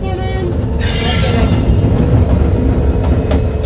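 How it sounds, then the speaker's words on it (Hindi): A passenger train running from New Delhi toward Rewari gives a loud, continuous rumble of wheels on track with rattling carriages, heard close from on board. "तो ये ट्रेन नई दिल्ली से रेवाड़ी की तरफ जा रही है"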